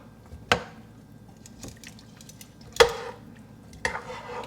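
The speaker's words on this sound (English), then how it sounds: "Give it all a quick stir." Potatoes stirred into a pot of summer corn chowder give a few scattered clunks and scraping knocks of a spoon against the pot, separated by quiet pauses, fairly soft and close with no talking.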